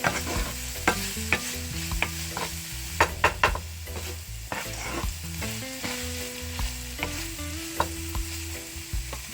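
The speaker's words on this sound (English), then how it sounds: "I'm gonna stir it up again." Ginger and garlic frying in a pan while a spoon stirs them, steady sizzle under repeated scraping clicks, close and clear with no talk.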